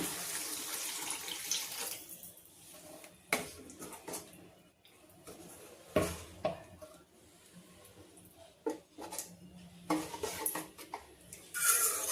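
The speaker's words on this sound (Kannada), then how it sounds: "ಈಗ ಇದಕ್ಕೆ ನಾನು ಜಾರ್ ತೊಳೆದಿರೋ ನೀರು ಕೂಡ ಸೇರಿಸ್ತಾ ಇದ್ದೀನಿ." Water used to rinse a blender jar is poured into a pan of simmering mushroom gravy, giving a running, splashing pour with occasional clinks of utensils against the cookware, close up and with no voices.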